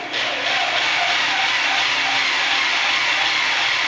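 A BF20 milling machine spins at high speed, pulsing at low RPM, producing a steady, loud mechanical whine and hum with a brief dip at the start before settling into an even drone.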